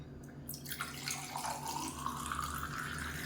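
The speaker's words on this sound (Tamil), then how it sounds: "இப்போ ஏதோ ஒரு கிளாஸில் ஊற்றிக்கலாம்" Amla buttermilk poured into a glass, a continuous close liquid stream that splashes and fills steadily for a few seconds.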